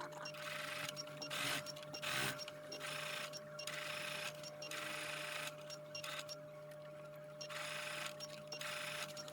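A sewing machine stitches fabric for a tulip bag in short, quiet bursts of whirring motor and needle chatter separated by brief pauses, as at the start and end of a seam, with no voices.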